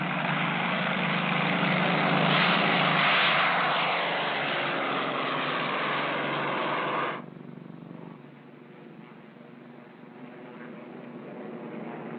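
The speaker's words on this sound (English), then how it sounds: "Marine planes are an important part of every training exercise" Marine Corps propeller aircraft engines drone loudly overhead during a 1952 training exercise, then the roar drops off sharply and a fainter engine hum continues in the distance.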